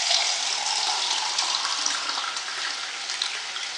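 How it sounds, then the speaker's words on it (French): Water poured into a cooking tajine for a malsouka (brick-pastry) dish, a steady close splashing gush with no pauses. "Ici, je vais ajouter de l'eau."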